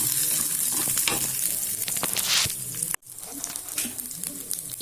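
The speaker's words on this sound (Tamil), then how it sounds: "தேங்காவும் அந்த பூண்டையும் சேர்த்துக்கலாம் இப்போ எல்லாமே சேர்ந்து நல்லா இதாக வதக்கி எடுத்துக்கலாம்" Coconut and garlic sauté in a hot pan for an orange peel chutney, giving a steady, close frying sizzle with stirring scrapes and a brief break in the sound near the middle.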